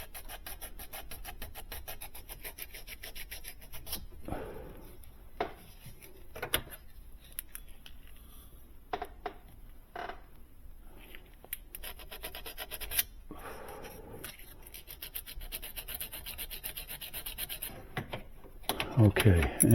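Paint is rubbed and rasped off copper evaporator coil tubing for a Sub-Zero BI-36 refrigerator, giving steady, quiet scraping strokes with occasional sharper scratches and a louder burst near the end.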